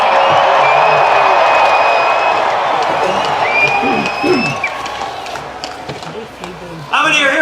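A large outdoor crowd at the Groundhog Day gathering in Punxsutawney cheers, whoops and applauds loudly, then settles into a murmuring hum before another burst of cheering at the end, with someone speaking over the crowd.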